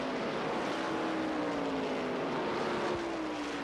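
NASCAR stock cars race at Rockingham in the 1980 American 500 with a steady, dense roar of engines. One car's pitch sweeps slowly downward as it passes, with constant crowd and track noise behind it.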